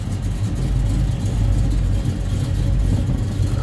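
A 1972 Chevrolet Nova V8 with a mild cam idling while warming up in neutral, a steady, loud low rumble with slight lumpy pulsing that holds evenly throughout, no voices over it.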